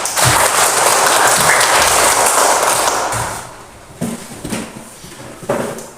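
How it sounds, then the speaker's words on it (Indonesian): Schoolchildren in a classroom clap together after a prayer, a dense burst of hand claps for about three seconds, followed by a few scattered thumps and taps. "kita tepuk tangan"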